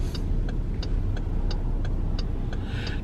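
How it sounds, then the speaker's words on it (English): A new car's turn signal ticks at a steady, even rhythm, about three clicks per second, heard from inside the cabin over a constant low road and engine hum. "That turn signal sounds kind of funny, doesn't it?"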